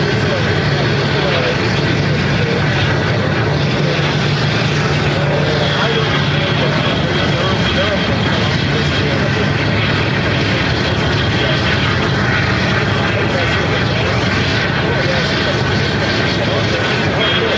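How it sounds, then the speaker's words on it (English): A British Airways Airbus A350-1000 arriving on runway 26 at Phoenix airport, its steady, loud engine roar filling the scene throughout, with a voice talking over it. "Speedbird to Phoenix, Arizona, the A350-1000,"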